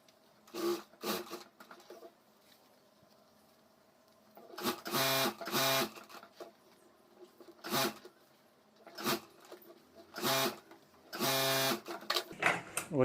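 A sewing machine stitching a homemade school bag runs in short bursts, a fast rattling whir starting and stopping several times, close by with quiet pauses between runs.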